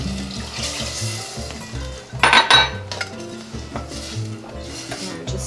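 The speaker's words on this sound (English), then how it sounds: "And just give that a nice stir." A spoon scrapes and clinks against a pot while rice is stirred with coconut milk and water, with irregular metallic taps and one sharp clatter midway, over a soft background hum.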